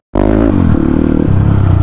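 A Crossfire RM 250 motorcycle ridden off-road on a slippery red-mud trail, its engine droning loud and close after a sudden start, the pitch shifting as the rider changes throttle.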